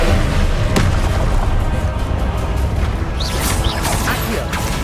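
Confringo, an explosive spell in Hogwarts Legacy, goes off as a loud booming blast with crashing impacts and crackling debris that follow over a few seconds.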